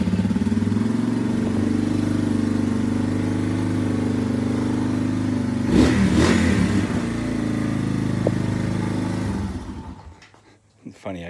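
A Yamaha XT225 Serow motorcycle engine runs at a steady close idle with a brief rev and clatter midway, then cuts out near the end, leaving near silence.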